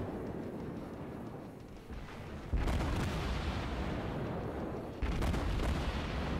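Battleship main guns firing in the World of Warships naval combat game, two heavy booming salvos a few seconds apart over a constant low rumble, loud and without talk.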